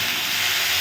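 Masala frying in a pan outdoors during village cooking of a fish curry with cauliflower, giving a loud, steady hiss of hot oil, close by, with no voices.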